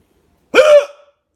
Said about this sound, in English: I've never had hiccups like this before.